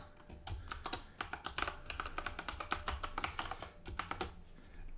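A master key is typed on a computer keyboard in quick, uneven bursts of close, crisp keystrokes that run steadily for several seconds with no talking.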